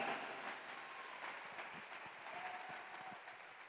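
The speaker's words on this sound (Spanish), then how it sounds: "Dele un aplauso al Cordero." A church congregation applauds steadily at a worship retreat in Mexico City, a sustained wash of clapping from a sizable crowd at moderate distance that holds throughout.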